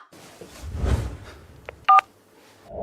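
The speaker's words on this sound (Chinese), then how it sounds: "马上给她打电话" A quick pair of telephone keypad tones, the second one loud and clear, over faint background murmur.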